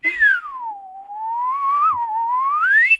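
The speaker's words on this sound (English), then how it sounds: "how about the slide whistle though?" A slide whistle glides down, then slowly climbs back up in one long, continuous pitch sweep, close and loud and heard on its own.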